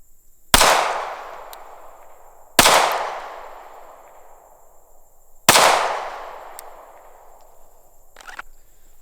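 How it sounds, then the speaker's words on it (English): Three sharp shots from a Sig P365XL pistol with an Icarus Precision grip module ring out at an outdoor 30-yard range. They come about two to three seconds apart, and each crack trails off in a long echoing decay. "I'll be shooting my 9th shots"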